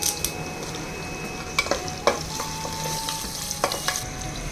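Black pepper and curry leaves fry in a pan with a soft, steady sizzle, broken by several sharp scraping and tapping knocks of a spoon stirring against the metal.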